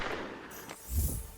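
A gunshot jump-scare alert on a livestream, a single muffled bang with a low thump near the end of a short burst of noisy rumble.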